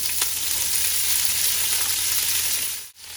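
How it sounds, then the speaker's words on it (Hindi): Shredded cabbage and carrot hit hot oil with golden garlic in a pan, giving a steady, loud sizzle that runs continuously before cutting out abruptly near the end. "इन दोनों चीज़ों को अच्छी तरीके से ऑयल में मिक्स करते हैं।"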